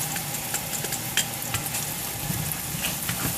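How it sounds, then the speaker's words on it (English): Garlic frying in a pan for a penne pasta with spinach and mushrooms, a dense steady sizzle heard close up with light stirring scrapes, no talking. "And then we're going to add our garlic."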